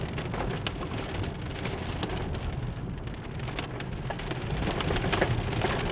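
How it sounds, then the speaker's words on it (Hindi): Hail falls during a thunderstorm in the hills of Himachal near Shikari Mata, a dense, continuous pattering of sharp ice clicks striking surfaces nearby. "ओले लगे गिरने, हाँ ओले गिर रहे हैं, ओले।"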